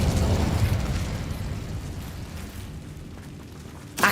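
A Bombarda spell explosion in the Hogwarts Legacy video game: a loud, broad rumbling blast that slowly decays over several seconds, with a sharp burst at the very end.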